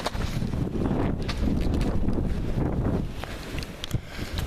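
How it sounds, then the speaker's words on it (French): Violent wind gusts during a storm in Charente, a steady roaring rush buffeting the microphone for several seconds before easing slightly. "Rafale de vent à plus de 100 km/h par moment, surtout en altitude."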